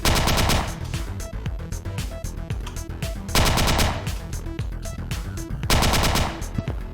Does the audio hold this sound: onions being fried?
no